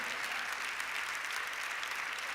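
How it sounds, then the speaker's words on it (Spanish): A church congregation applauds in a steady, dense wash of clapping that stays even and unbroken throughout, heard from a moderate distance with no speech over it. "Dale un fuerte aplauso al Señor"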